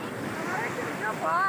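Sea waves at Marina Beach in Chennai, a steady rushing wash of surf with wind buffeting the microphone and a faint voice near the end.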